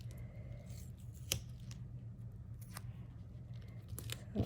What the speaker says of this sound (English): my scissors that I use to cut sticky stuff with.